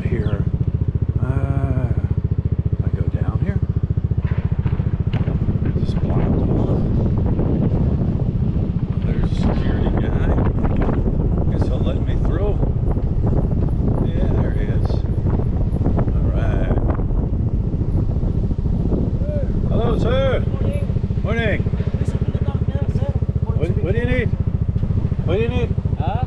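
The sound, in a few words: motorcycle riding through a hotel parking lot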